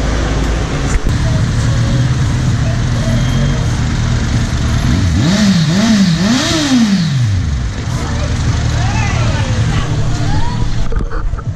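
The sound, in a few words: tuk tuk engine revving in Pattaya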